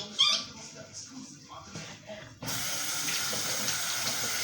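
A kitchen tap is turned on partway through and runs in a steady, loud gush into the sink while a plate is washed, after a stretch of quieter clinking and voices.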